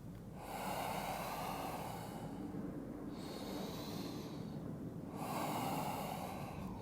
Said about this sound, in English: Breathing consciously.